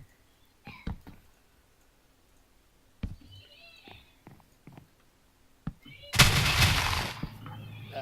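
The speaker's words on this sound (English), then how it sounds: "Explosions." In the Minecraft Sky Factory 3 game, a loud explosion bursts out near the end, a roaring noisy blast lasting about a second. Scattered block-placing clicks and thumps come before it.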